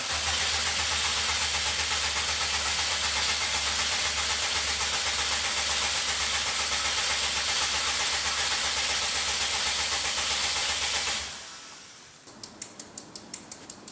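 An engine-swapped Subaru WRX STI fires up for the first time and runs loud and steady at close range for about eleven seconds before shutting off, leaving a few sharp ticks behind.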